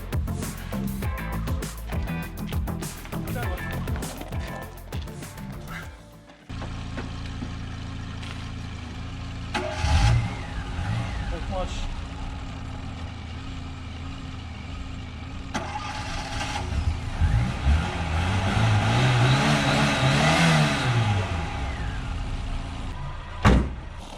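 A 1992 Tofaş Şahin car is jump-started and its engine cranks, catches and settles into a rough idle, then revs up and down in rising and falling swells, heard close after some rattling handling at the start.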